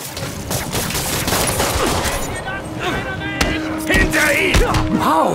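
Rapid bursts of gunfire in the video game Spider-Man crackle and boom throughout, with sharp shots and thuds mixed with game effects and a voice speaking over the action.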